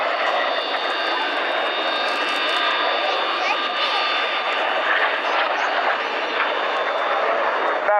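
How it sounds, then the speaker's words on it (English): Red Arrows synchro pair jets flying the Carousel manoeuvre at an air display at Waddington, a loud continuous roar of jet engines holding steady throughout, with a commentator's voice over it. "Okay, Enid, hand over to the synchro pair now, from the right and the left. This is the Carousel"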